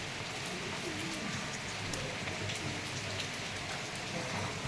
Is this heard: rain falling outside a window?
yes